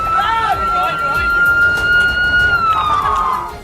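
A siren wails across an area just hit by an air strike, its steady tone sliding slowly in pitch over constant crowd noise and commotion, with people's voices mixed into the din.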